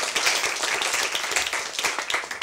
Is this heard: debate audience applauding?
yes